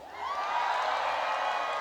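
A large outdoor crowd at a summer trot concert at Haeundae, Busan, cheering and shouting in one sustained wave that swells after a quiet start and holds steady and loud to the end.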